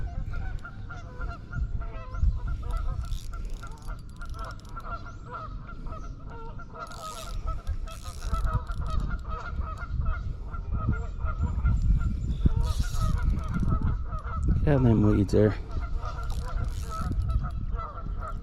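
Geese honk repeatedly at a distance, a steady chorus running throughout, with a louder burst of honking near the end and someone speaking briefly over it.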